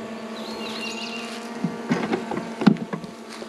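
Honey bees hum steadily as a frame is lifted from a hive, a low continuous buzz close by, broken by a few knocks and handling bumps.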